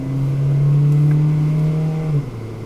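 A car engine revs up loudly and steadily with a rising, sustained drone as the driver floors it to merge onto Interstate 10 westbound from Highway 187, easing off near the end.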